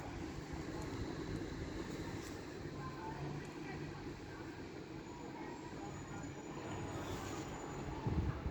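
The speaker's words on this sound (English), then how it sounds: "now coming down is a LNER 800 running from London King's Cross to Aberdeen" LNER class 800 train running from London King's Cross to Aberdeen passes through Doncaster station on the East Coast Main Line, a steady broad rumble and wheel roar sustained throughout, with faint squeals high above.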